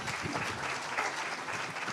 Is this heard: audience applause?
yes